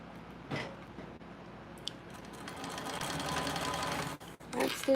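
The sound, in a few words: sewing machine stitching pocket at 1/8 inch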